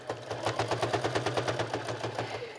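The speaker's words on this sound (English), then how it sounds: "now at the sewing machine, we're just gonna stitch all the way around the outside of the wallet" A sewing machine stitching around the outside edge of a fabric wallet, a steady rapid needle rhythm of evenly spaced mechanical pulses with a low motor hum, close and moderately loud.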